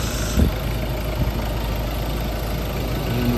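A Ford Everest Titanium SUV engine idles steadily, a low continuous rumble with a faint brief bump near the start, no voices.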